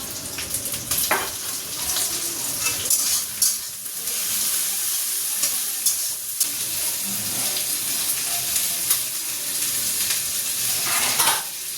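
Spices, tomato and chicken frying in a pan for chicken dak bungalow, a continuous close sizzle with repeated spoon scrapes and occasional clinks throughout, fairly loud.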